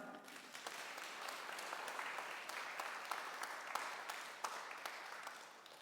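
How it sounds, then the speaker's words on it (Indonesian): Guests at a wedding ceremony in a church applaud the newlyweds, steady applause from a gathered crowd with a few sharper individual claps standing out, heard at a moderate distance with no talk. "Sambut mereka dengan tepuk tangan."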